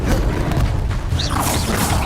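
A Stupefy spell cast in Hogwarts Legacy, a loud magical burst with a whooshing, booming impact over dense, busy game sound that runs without pause for about two seconds.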